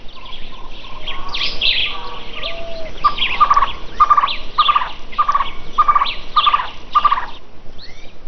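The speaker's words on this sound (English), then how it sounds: "Over time, these birds changed into uniquely Cuban creatures, like the national bird," A Cuban trogon, Cuba's national bird, calls in a forest, repeating a clear, evenly spaced series of short, bright notes after a few softer opening calls, close and distinct over a quiet background.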